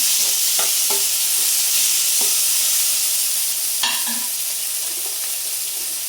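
Chopped tomato pieces sizzle in a hot pan for a curry while a spoon stirs them, with a steady frying hiss and a few sharp scrapes and clinks of the utensil against the pan.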